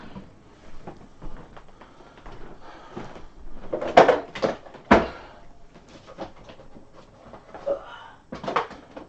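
Small sticks and craft items are handled and dropped back into an organizer drawer, with scattered clicks, clacks and a few sharper knocks of objects and drawer parts at irregular intervals, close by.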